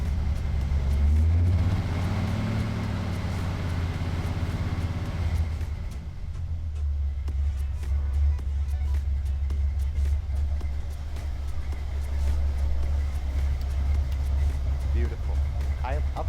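A 1979 Jeep CJ7 engine revs hard at first, rumbling loud up close, then falls back to a steady lower rumble while someone talks over it.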